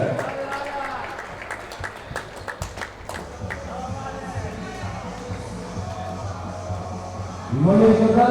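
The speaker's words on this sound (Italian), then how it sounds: "un grandissimo applauso alle nostre ragazze" Spectators at a women's Serie B1 volleyball match applaud their team, with scattered sharp claps and crowd bustle over ongoing chatter and talk, then a louder burst of noise at the end.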